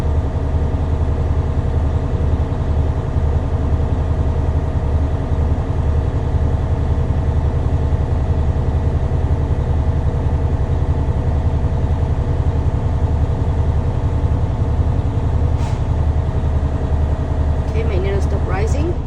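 An air brake truck's engine idles while building air pressure, a loud, close, steady low rumble with an even drone that runs throughout, and a few light clicks near the end.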